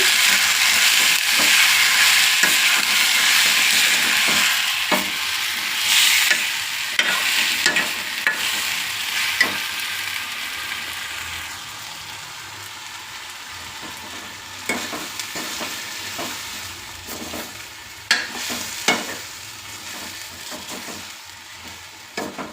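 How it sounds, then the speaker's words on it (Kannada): Sundekai fries in oil in a pan while being stirred, a steady loud sizzle at first that gradually fades, broken by sharp scrapes and taps of the spoon throughout; close, with no talking. "ಸ್ವಲ್ಪ ಎಣ್ಣೆಯಲ್ಲಿ ಸ್ವಲ್ಪ ಫ್ರೈ ಮಾಡ್ಕೊಳ್ಳೋಣ"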